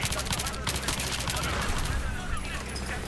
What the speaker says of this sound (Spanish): ¿dónde coño me están disparando